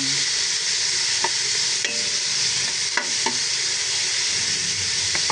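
Onion, ginger and tomato sautéing in oil for sinampalukang manok, a loud dense hiss of frying, close up, with a few scattered scrapes and knocks of a stirring utensil.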